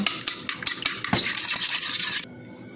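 Beaten egg whisked with salt and baking powder in a bowl, a brisk close scraping and clinking of the utensil against the bowl in short rapid strokes that stop abruptly near the end.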